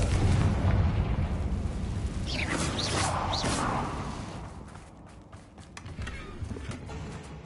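A Confringo blast in a Hogwarts video game, a broad booming explosion with whooshing flares near the middle, dense and loud throughout and tapering into rumbling crackle.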